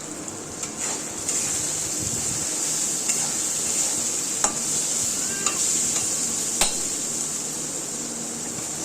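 Vegetables fry in a pan with a steady, close sizzle while a spatula stirs them, its scrapes and clicks tapping out now and then over the continuous crackle.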